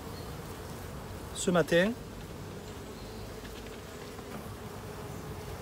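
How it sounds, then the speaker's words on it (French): Honey bees buzzing at an open beehive during hive work, a faint steady insect hum throughout, with a brief spoken phrase near the start. "Donc je vais faire retomber les abeilles."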